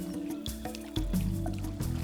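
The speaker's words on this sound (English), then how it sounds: "a rhino loves rolling around in gooey mud" A rhino rolls in gooey mud, with wet squelching and dripping sounds in short bursts over a soft sustained tonal background.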